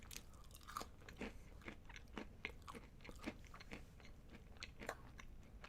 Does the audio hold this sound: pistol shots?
no